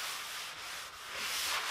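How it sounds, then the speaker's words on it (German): Sanding sponge rubbed over an oiled wooden worktop, a steady close scratchy hiss with slight swells as the strokes change direction, no voices. "mit so einem Schleifschwamm gehe ich einfach über die geölte Fläche nochmal rüber und schleife alles plan"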